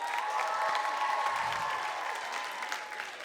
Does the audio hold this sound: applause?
yes